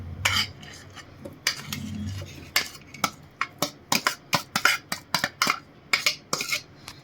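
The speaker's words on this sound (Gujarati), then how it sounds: "તો હવે આપણે એને આ મિક્સર જારમાં એડ કરી દેશું" A run of quick clinks and taps against a mixer jar, chopped chikoo (sapodilla) pieces dropped and scraped in one after another, close and fairly loud.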